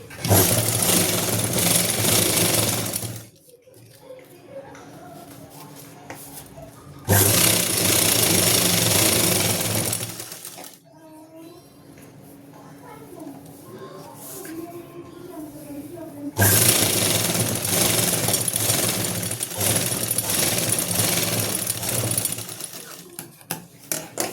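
A sewing machine stitches the hem of a salwar in three long, loud, steady runs separated by quieter pauses with faint handling sounds.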